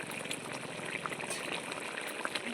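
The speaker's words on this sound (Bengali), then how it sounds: "ফুটে ফুটে গ্রেভিটা অনেকটাই কম হয়ে এসছে" Thick spinach gravy bubbling in a pot, a dense, continuous simmering crackle and popping heard up close at low volume, with no talking.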